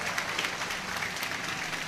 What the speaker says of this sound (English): A nice round of applause for him.